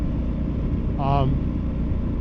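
A Husqvarna Norden 901 adventure motorcycle revs up once while riding through a turn, a rising engine pitch over a constant loud rumble of engine and wind noise.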